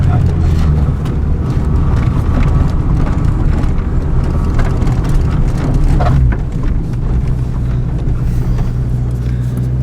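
A Honda car bought cheaply from a tow yard drives along with a steady low engine rumble and road noise, close and continuous, while people talk over it.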